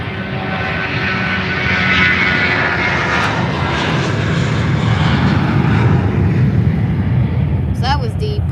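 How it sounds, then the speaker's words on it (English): British Airways Airbus A320 jet at Faro Airport, a loud continuous engine roar that swells slightly before a brief higher tone near the end. "So that was the British Airways A320"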